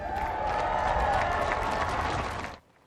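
An audience applauds Capitol Police Officer Eugene Goodman at a televised event, producing dense, sustained clapping with a faint crowd murmur that stops abruptly near the end.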